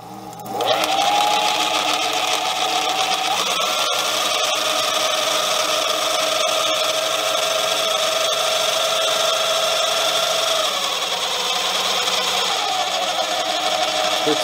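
A Manson Duo lathe runs slowly in back gear with a steady mechanical whir and hum, loud and continuous, shifting slightly in pitch around a few moments, with no voices.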